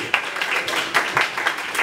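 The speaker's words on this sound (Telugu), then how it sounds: "మీరందరూ వాళ్ళకి చప్పట్లు కొట్టండి" Audience applause at a stage play performance, a dense steady clapping texture with scattered sharper claps, filling the moment at moderate loudness without speech over it.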